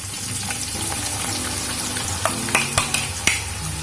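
Chopped onions and kasuri methi hit hot oil in a kadai, giving a steady close sizzle broken by several sharp clinks and scrapes of a spoon stirring toward the end.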